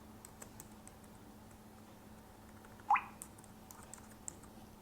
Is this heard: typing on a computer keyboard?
yes